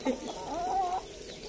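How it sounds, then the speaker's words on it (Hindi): A chicken gives a short rising cluck close by, with soft outdoor background noise and no talking. "एक मुर्गी जो है मेरे पास आ गई है"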